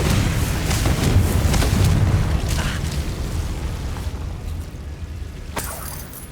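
Blast-spell explosions in the game Hogwarts Legacy: loud, rumbling booms with crackling bursts that fade into a decaying roar, plus a sharp later burst near the end, with no speech.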